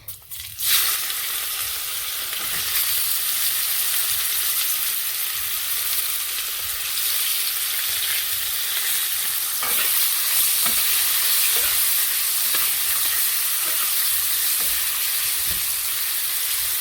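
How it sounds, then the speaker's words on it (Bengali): Chopped onion frying in a pan with a steady, loud sizzle that starts abruptly and holds for the full length, broken by faint stirring scrapes and clicks. "পেঁয়াজটাকে একটু ভালো করে ভেজে নেব।"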